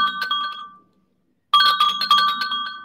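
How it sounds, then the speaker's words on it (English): A small rocking roly-poly toy shaped like a Russian nesting doll gives off bright, bell-like chiming jingles, one ringing burst that fades to silence and then a second, louder run of chimes. "it rolls around like that, and it makes those cute little jingles"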